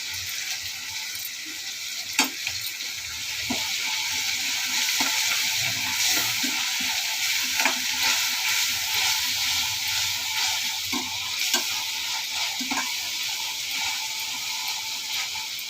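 Ginger paste sautés with tomatoes and onions in a pan, giving a continuous sizzle and sporadic sharp scrapes and taps of a spoon throughout, with no voices.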